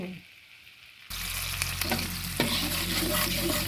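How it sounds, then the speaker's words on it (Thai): Coconut milk simmering in a pan for Thai panang curry bursts into a loud, steady sizzle partway through, with occasional stirring scrapes close by and no talking. "ต่อไปเราคือเคี่ยวกะทิก่อนจ้า เคี่ยวกะทิให้แตกมันก่อนนะคะทุกคน"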